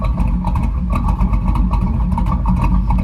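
A V8 engine with lopey cams idles nearby, giving a steady, loud, low rumble with an uneven loping pulse throughout.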